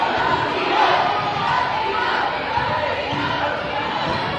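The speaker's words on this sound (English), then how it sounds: "This crowd is so energetic right now." A packed high school basketball gym roars with sustained crowd noise, shouting and cheering blending into a dense, loud wall of sound, with voices and faint ball thumps beneath.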